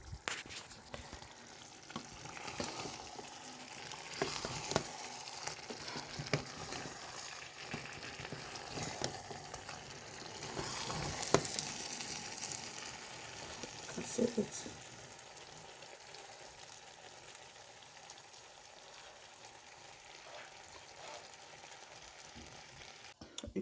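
A sauce of gizzard, crayfish, pepper and red palm oil cooking over a fire, with a low continuous sizzle and bubbling, occasional stirring scrapes and soft knocks, steady and moderately close.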